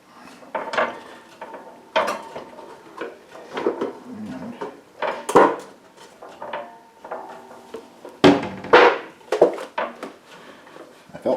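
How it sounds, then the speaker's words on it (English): A pear tarte tatin is turned out of a 10-inch skillet onto a lipped tray, giving scattered knocks, clanks and scrapes of metal and pan with pauses between them, close and moderately loud. "Now I will endeavor to flip it."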